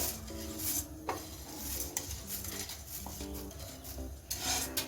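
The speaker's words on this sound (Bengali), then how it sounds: "এখন আমি চিরাটা ভেজে নিবো চিরাটা আমি একবারে ভাজবো না দুবারে ভাজবো" Flattened rice (chira) is dry-fried and stirred in a non-stick pan over medium gas. Soft, quiet scraping and rustling repeats in uneven strokes, with a faint tonal hum in the background.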